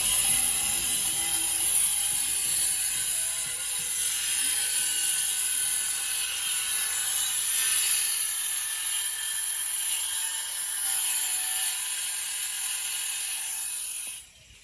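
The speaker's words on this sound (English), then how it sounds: "the old angle grinder man" An angle grinder runs in the background at a Jomtien fishing village, a steady high, hissing whir held at moderate loudness for about fourteen seconds before it cuts off abruptly, with no voices.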